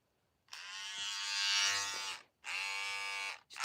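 Electric dog grooming clipper, freshly oiled before grooming a Pomeranian, buzzing loudly and steadily close by in two bursts, switched on and off with a short pause between runs.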